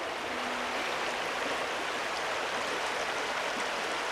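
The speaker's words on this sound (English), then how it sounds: "Our ATV trail came out to this river" A river flows steadily beside an ATV trail on Crown Land, a constant broadband rush of water that fills the whole moment with no breaks and no other sounds.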